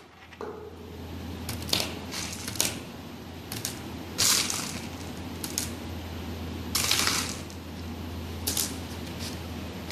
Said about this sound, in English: I build this, the new marble shooting machine.